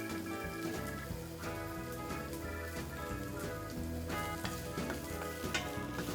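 Garlic hitting hot oil with softened onions in a pan for vegetable thukpa, a close, continuous crackling sizzle with busy popping and stirring throughout.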